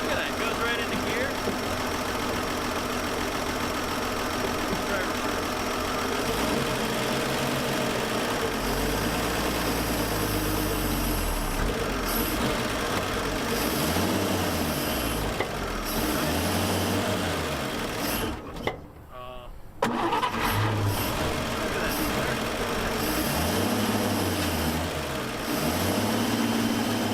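Abandoned 1954 Chevy Bel Air engine running after being revived, a steady rough idle with rhythmic pulsing throughout and a brief dropout near the end, heard under occasional talk.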